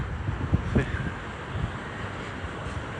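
Wind gusts across a microphone on a windy day beside the choppy sea at Protaras, Cyprus, producing a steady, fairly faint rushing rumble with occasional buffeting bumps.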